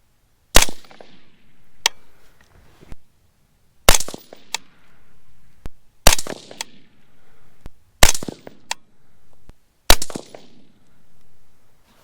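A Uintah Precision UPR15 rifle fires .223 Rem rounds outdoors at a range: five sharp, loud shots spaced about two seconds apart, each followed by a short echoing decay and faint handling clicks.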